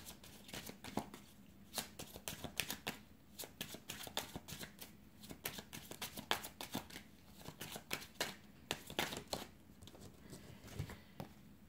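Tarot cards being shuffled by hand, a quick run of crisp riffling flicks and soft slaps in bursts, close and fairly quiet, with no talking.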